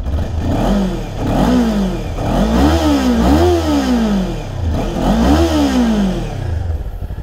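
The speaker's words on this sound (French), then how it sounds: "je vous fais écouter la sonorité de la ligne d'échappement" A 2023 Kawasaki Ninja 400 twin-cylinder on its stock exhaust revs repeatedly up and down, five or so rising and falling blips in a loud, close, continuous engine drone.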